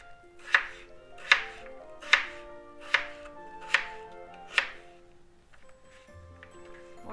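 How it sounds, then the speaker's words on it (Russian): A knife cuts potato into pieces on a board: six sharp, evenly spaced chops at a steady rhythm, close and clear, followed by quieter handling sounds with no talking. "Теперь брусочком нарежем картофель."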